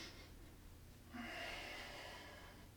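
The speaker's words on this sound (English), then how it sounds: "So breathe in and out through your nose." A person breathes through the nose during a Tibetan Rites exercise, with a quiet breath followed by a longer, louder airy exhale or inhale that gives a close, soft hiss.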